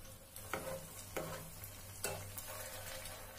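Vegetable Manchurian balls fry gently in hot oil, a steady low sizzle broken by a few soft clinks as they are stirred, close and fairly quiet with no voices.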